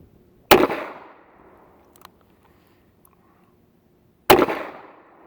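Two sharp, loud gunshots from an old S&W Model 37 Airweight alloy-frame revolver fired at a 15-yard range, spaced several seconds apart, each with a quick decaying ring and a faint click between them.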